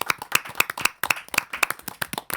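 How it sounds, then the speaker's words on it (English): An evening audience gives a warm round of clapping for a spoken word artist, with distinct individual hand claps close by in a quick, uneven rhythm. "Please, a warm applause for her."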